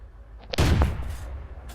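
A tank cannon fires in a video game match, one heavy booming shot with a sharp crack and rolling tail, following a couple of small clicks, with no voices.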